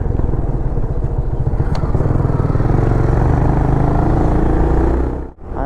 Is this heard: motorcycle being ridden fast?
yes